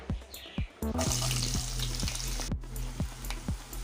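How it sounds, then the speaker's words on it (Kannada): Onions drop into hot oil in a pan and crackle with a bright, steady sizzle, while regular soft knocks tick along underneath, close and unaccompanied by speech. "ಇವಾಗ ಎಣ್ಣೆ ಬಿಸಿ ಆಗಿದೆ, ಅದಕ್ಕೆ ಆನಿಯನ್ಸ್ ಹಾಕ್ತಾಯಿದ್ದೀನಿ"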